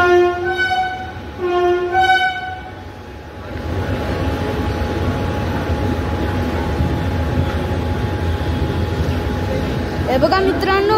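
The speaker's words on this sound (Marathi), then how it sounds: "गाईज तर ट्रेन आता डिपार्ट झाली" A Western Railway local train pulls away on the Dadar–Virar line, with two horn blasts at the start followed by a loud, steady rumble and rattle of the rake picking up speed close by; a brief squeal near the end.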